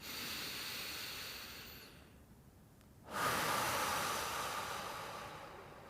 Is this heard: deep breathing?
yes